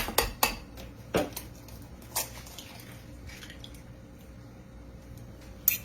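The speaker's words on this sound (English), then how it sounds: "you're going to take 2 eggs and crack them in your bowl" Two eggs cracked into a bowl while making a peach cobbler, sharp shell taps against the rim followed by soft drips and small clinks, close and quiet with pauses in between.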